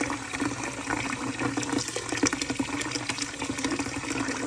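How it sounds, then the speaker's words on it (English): Water draining from a container of soaked quinoa, poured out past a cap used to hold back the grains; a steady close trickling splash that runs for several seconds with no speech. "I let the water out and I pour it back on"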